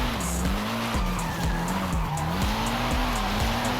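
A Nissan S13 drifts down a mountain touge road in Forza Horizon 5, tires squealing continuously while the engine revs rise and drop repeatedly through gear changes, loud and sustained.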